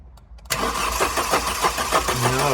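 A Vauxhall Calibra engine, neglected for 15 years, cranks over with a steady rhythmic churn from the starter motor after a brief quiet start. It is loud and close, keeps going without catching, and no one speaks over it.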